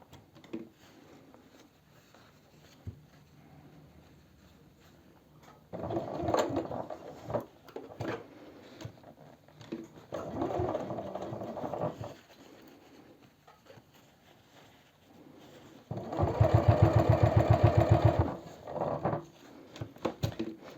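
A sewing machine stitches a jeans seam in three separate runs, the first two moderate and about two seconds each, the last louder and steadier, with quiet pauses between them.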